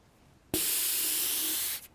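A short burst of air hissing out steadily for about a second from a differential breather valve on a 2014 Toyota Tundra, then cutting off abruptly, close and fairly loud.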